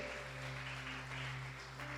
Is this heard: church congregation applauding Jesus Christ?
yes